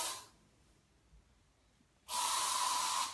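An aerosol insect spray fired at a bug indoors in Australia gives a short hiss at the start, then after a quiet pause a loud, steady second blast lasting about a second, close to the microphone.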